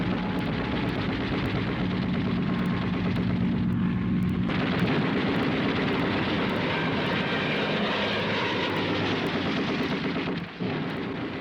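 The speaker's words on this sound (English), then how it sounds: "24 P-40s headed into the skies for battle." Curtiss P-40 Warhawk fighter planes roar overhead, a loud, sustained droning of piston aircraft engines and propellers that swells and shifts in pitch, with no voices.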